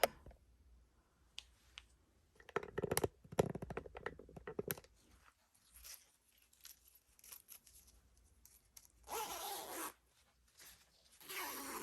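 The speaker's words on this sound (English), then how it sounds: "now you're gonna zip your zipper up" A zipper sewn into a homemade dress is drawn up in short bursts of rasping zips, with scattered clicks and fabric handling between them, close and fairly quiet.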